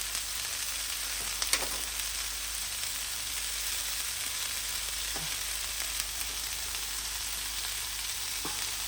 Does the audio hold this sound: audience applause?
no